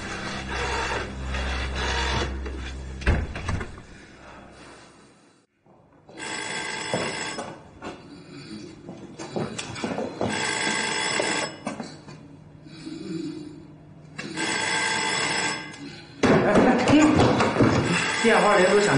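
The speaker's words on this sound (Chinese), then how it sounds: "电话铃都响成这样了" An old-style telephone bell rings repeatedly in bursts separated by short pauses, fairly loud in an indoor room, with people talking at points around the ringing.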